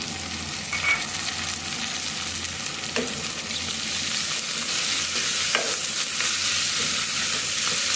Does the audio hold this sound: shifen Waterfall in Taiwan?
no